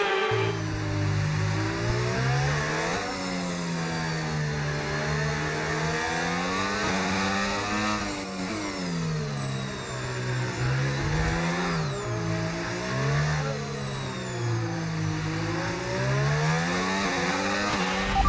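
Formula 1 race car engine in the F1 25 video game, set at Miami, revving loud and continuous with rising and falling pitch through gear changes, constant whine for the whole stretch.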